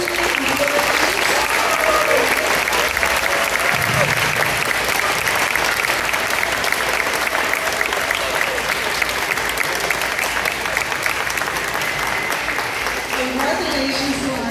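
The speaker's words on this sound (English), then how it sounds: "Now, applause." A school awards audience claps loudly and continuously for the whole stretch, a dense, steady roar of applause with a few cheers.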